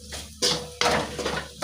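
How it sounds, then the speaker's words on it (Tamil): Ivy gourd sautéing in a pan with salt and a pinch of mutton masala: close, bright sizzling and scraping bursts as the vegetables are tossed and stirred, with short pauses between strokes. "உப்பு இதை இனி நல்லா வதக்கணும்."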